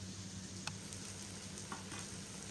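Spinach rice simmers and fries down dry in a pot, giving a quiet, steady sizzle with a couple of soft crackling pops over the hiss.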